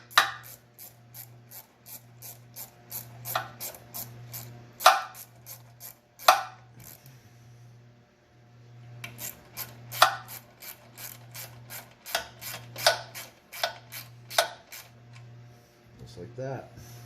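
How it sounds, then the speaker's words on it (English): Hose clamps on a Coleman CT200-EX mini bike's torque converter click and ratchet in quick repeated bursts, close and crisp, with pauses between sets and a steady low hum underneath. "Attach both of your hose clamps."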